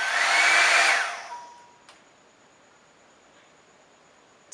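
An XRUI one-step hair dryer brush runs on its high setting with a loud, broad airy roar for about a second, then cuts off and leaves a thin high whine fading into near silence.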